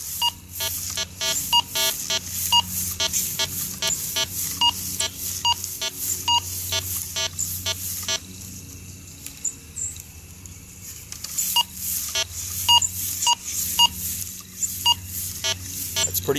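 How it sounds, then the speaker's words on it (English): A Minelab Go-Find 60 metal detector sounds rapid repeated electronic beeping tones over a quarter, in bursts with a quieter gap in the middle before the beeping returns. "It's hitting a low tone, an iron tone, but then it's also hitting the high tone."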